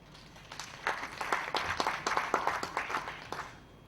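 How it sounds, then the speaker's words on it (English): Scattered applause from a seminar audience on agricultural ICT greets an introduced speaker, with a handful of distinct claps swelling briefly at moderate distance and then fading. "A round of applause for him, please."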